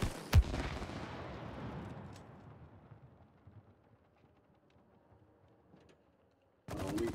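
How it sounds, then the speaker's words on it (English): Video game It Takes Two: a sharp close shot opens a long rumbling, decaying boom with scattered crackles, then near silence, before another dense loud burst of gunfire-like noise cuts in at the end. "Shoot the top one. Shoot it again. Shoot the bottom one."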